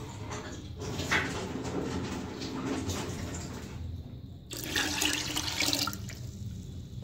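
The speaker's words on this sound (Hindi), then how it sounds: "1/2 जग पानी हम इसके अंदर और ऐड कर देंगे।" Half a jug of water poured into a pot of moong masoor dal, a soft splashing pour that pauses midway and then surges louder, no talking over it.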